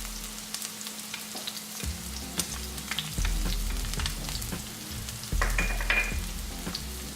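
Ginger, garlic and onions sautéing in a pan for Sindhi lamb, a close crackling sizzle with scraping stirs that grows louder partway through, and no one talking.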